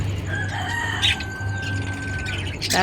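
Pet lovebirds in a small cage chatter noisily nearby, with shrill overlapping calls, chirps and one drawn-out squawk tumbling over each other in a loud, busy burst.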